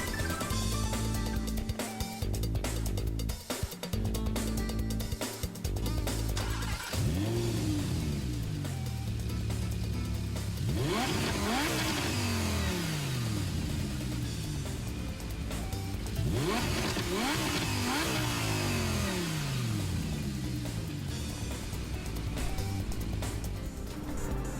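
A Lamborghini Aventador and a Bugatti Veyron race in Gran Turismo Sport, engines revving and rising through gears in repeated sweeping pitch climbs, loud and continuous with brief tire noise and no voices.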